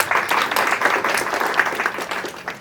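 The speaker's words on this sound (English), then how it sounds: "So please give a big round of applause for 3 of them." An audience at a declamation contest applauds the participants with steady, dense clapping that carries evenly through the whole stretch, fairly loud and close, with no voices over it.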